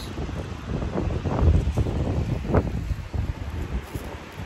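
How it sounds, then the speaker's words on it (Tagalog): Strong cold wind buffets the microphone at Kamugawa Beach, a rough continuous roar with gusty swells, loud and close, and no talk. "Malakas ang hangin."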